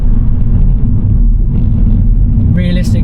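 2024 Mini Cooper S driving fast while chasing an Audi R8, a loud steady low engine and road rumble filling the cabin, with a brief higher whine near the end.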